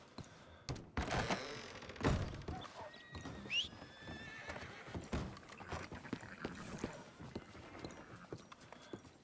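In Red Dead Redemption, hooves clip-clop in an uneven walking rhythm, with a horse whinnying and snorting nearby, plus occasional thunks and soft game sounds.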